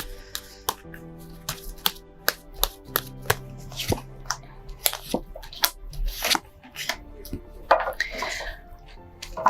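Tarot cards are handled and drawn close up, three of them pulled from the deck. Crisp snaps, flicks and shuffling clicks come in an irregular series, with faint vocal sounds now and then.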